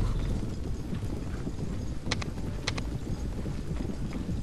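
Horse hooves clip-clop in a medieval Arthurian wargame battle, a steady low thudding patter under continuous rumble, with a few sharper clacks standing out midway.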